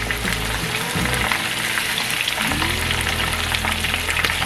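Cornflour-coated marinated beef fries steadily in hot oil, a dense continuous sizzle with crackling pops for Asian-style crispy honey chili beef, close and loud with no talking.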